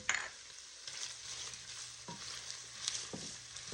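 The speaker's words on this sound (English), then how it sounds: "so I'm going to add our garlic" Garlic hitting a pan of translucent onions and cooked vegetables, a quiet steady sizzle with occasional light utensil taps and stirring scrapes, close but faint.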